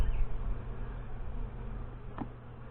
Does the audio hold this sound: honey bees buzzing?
yes